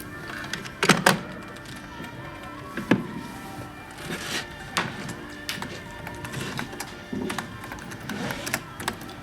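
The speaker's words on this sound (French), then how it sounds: "Tu tapes drôlement vite à la machine" A typewriter is typed on quickly, producing irregular clacking key strikes and heavier thunks, close and fairly loud against a quiet room.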